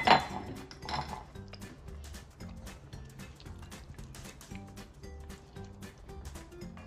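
Spaghetti in a creamy pumpkin and spinach sauce is stirred in a pan, giving faint, rhythmic scraping and light metallic clinks of a utensil against the pan, close by and fairly quiet.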